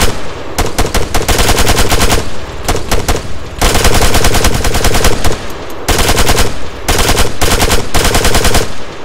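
Loud, rapid machine-gun bursts aimed at a helicopter in the military shooter Arma 3, long rattling strings of shots broken by short gaps, close and with no voices.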